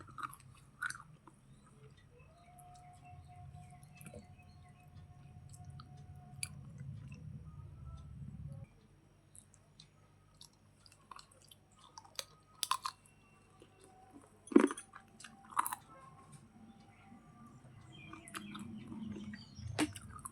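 Close, soft chewing and mastication while eating a fish head at a home lunch, with wet crunches and small bites scattered through the clip, steadier in the first half, and faint bird chirps in the background.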